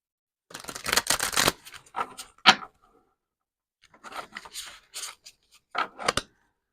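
Angels of Light oracle cards are shuffled by hand in a quiet room. Crisp bursts of riffling and sliding card stock come in uneven clusters, with brief pauses between groups.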